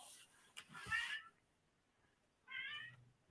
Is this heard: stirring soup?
no